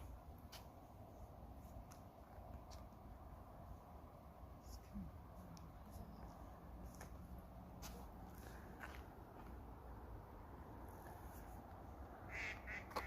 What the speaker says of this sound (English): Oh, there's a duck.